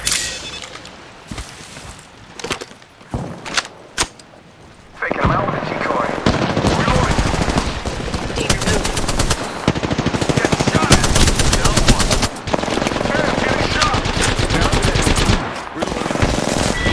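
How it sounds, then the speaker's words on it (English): Sustained automatic gunfire in the video game Apex Legends: a few scattered shots at first, then dense rapid bursts that last more than ten seconds with brief pauses, mixed with in-game voice lines. "Opening fire."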